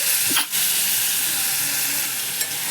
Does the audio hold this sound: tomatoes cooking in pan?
yes